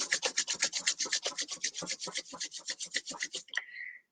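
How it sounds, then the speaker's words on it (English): Palms rubbed briskly together in a quiet room during a guided relaxation, a steady run of about twenty quick swishing strokes before the hands stop with a soft final brush. "And now rubbing your palms together."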